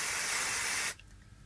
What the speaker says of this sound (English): So you can use this stuff, refrigerant spray, and you're just gonna put it on.